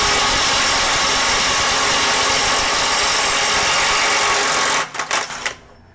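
A Kobalt mid-torque impact wrench on an 8.0 battery drives a fastener at the 1,000 setting, giving a loud, dense, continuous hammering rattle up close that ends in a few sharp final impacts before stopping.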